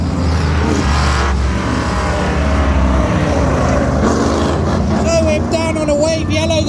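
V8 outlaw race cars roar past on a raceway in a dense, continuous wash of engine noise that stays loud throughout, with a commentator talking over it.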